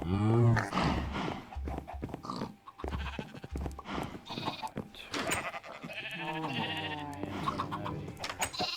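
Sheep in the video game Minecraft bleat repeatedly with short wavering calls that overlap and keep going, loud and close, with someone talking over them.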